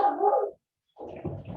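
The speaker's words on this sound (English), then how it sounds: "This might get noisy with my dogs here for a second" Dogs bark at home in two short, fairly loud bursts separated by a brief silence, with a small whimpering yip at the end.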